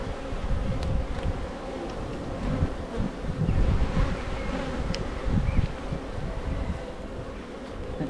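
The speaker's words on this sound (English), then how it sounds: "there's a decent quantity of bees on here as well" Honeybees buzz in a thick, continuous hum around an open hive during inspection at a swarming colony, with low wind rumble on the microphone beneath.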